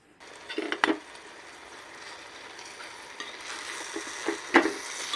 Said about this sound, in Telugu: ఇప్పుడు వీటన్నిటిని కలిసేలాగా కలిపేసి